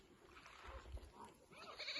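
Goats bleat in a village at feeding time on a cold day as feed is brought to them, with short animal calls over low rumbling background noise.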